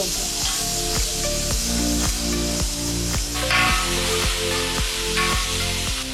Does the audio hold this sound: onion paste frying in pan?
yes